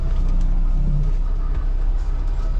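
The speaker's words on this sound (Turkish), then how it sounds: "Bu araba geçti değil mi?" A car passes close to a semi-truck being driven through narrow city streets, heard as a loud, continuous low engine and road rumble that stays steady throughout, with no one talking.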